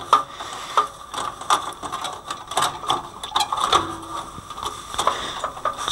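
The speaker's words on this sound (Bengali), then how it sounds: "এবার 4 পিনের কানেক্টরটা লাগাই দিব আমরা" A 4-pin connector is plugged in, giving a series of close, sharp plastic clicks and ratcheting snaps at an irregular rhythm, heard alone without talk.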